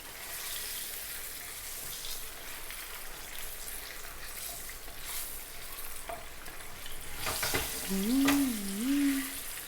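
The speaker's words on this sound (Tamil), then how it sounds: "இந்த மாதிரி வறுத்து சும்மா ஒரு 2 நிமிஷம் வறுத்து எடுத்து வச்சுக்கோங்க." Masala with turmeric and garam masala fries in a pan for Tamil egg thokku, giving a soft steady sizzle with faint stirring scrapes; near the end there is a brief splash of running water and a short whistling tone.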